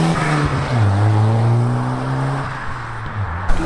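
A Volvo pulls away from a car meet on the Isle of Wight, its engine note climbing through a gear and shifting, loud and close at first before easing off, with no voices.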